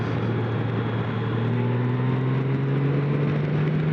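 A Honda GoldWing motorcycle pulling hard while riding, its steady engine drone rising smoothly in pitch under constant wind rush, close and continuous.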